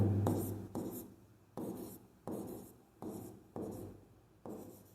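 Chalk scraping across a board in a Hindi-language biology lesson, heard as a run of short rasping strokes in a steady rhythm with brief pauses between them. The strokes are close and clear, with no talking.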